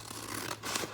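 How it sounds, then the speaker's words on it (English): Scissors cutting through a sticker sheet along a black registration mark line, a short run of close, dry papery snips and scratchy rasps with no talking. "I'm going to take a pair of scissors rather, and I'm just going to cut along this black"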